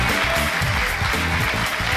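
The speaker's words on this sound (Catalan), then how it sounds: "Moltíssimes gràcies per aquests aplaudiments. Ja el sentiu, quin públic ens acompanya avui" Studio audience at a TV3 game show applauds loudly and close, a dense burst of clapping that continues throughout.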